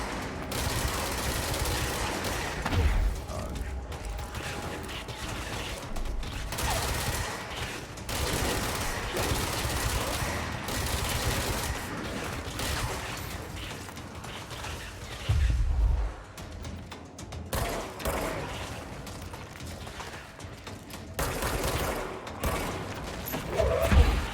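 Enemies firing projectiles in the video game Control, with rapid bursts of gunfire and heavy thuds through a dense, chaotic firefight, punctuated by louder impacts and whooshes.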